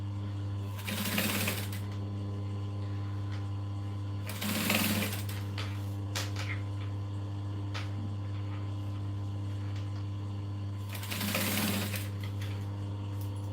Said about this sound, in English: So I'm currently just sewing this as a loop.